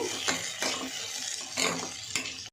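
Green chillies and large chopped tomato pieces fry in a pan, a steady hiss broken by a few sharp scrapes and clinks of a spoon stirring against the metal, close and fairly loud with no talking.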